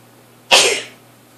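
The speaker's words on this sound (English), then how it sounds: "I'm gonna sneeze. Sneeze alert!" A single sharp sneeze close to the microphone from someone with allergies, a sudden loud burst that fades over about half a second against a quiet room hum.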